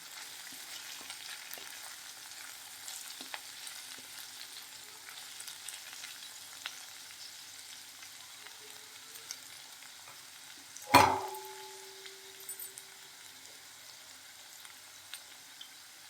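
Vegetable filling for fried paneer rolls stirred in a pan: a faint, soft sizzle with light scraping throughout and a single sharp metallic clang partway through, with no talking.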